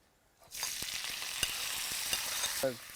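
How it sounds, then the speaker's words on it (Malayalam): Oil starts crackling and sizzling after a brief quiet start as crushed shallots, onion, garlic and ginger are sautéed, with a few sharp pops and scraping stirs across the pan. "ഈ എണ്ണയിലാണ് ഈ നമ്മൾ നേരത്തെ ചതച്ച് വെച്ചത് വഴറ്റിയെടുക്കുന്നത്"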